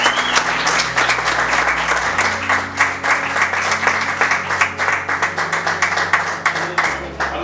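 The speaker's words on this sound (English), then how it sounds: "Let's give them a round of applause." A sustained round of applause from a gathered crowd welcoming guests, dense steady clapping for several seconds, fairly close and loud.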